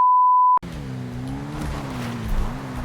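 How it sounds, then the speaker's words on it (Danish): A fast motorcycle in GTA Online races along with a steady high engine drone, loud and close, right after a short electronic beep, the pitch rising and dipping slightly as it speeds on. "Den her motorcykel her, den er så hurtig"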